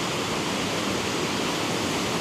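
Steady, broadband rushing roar of a waterfall near the Laxey mine, continuous and fairly loud with no voices over it.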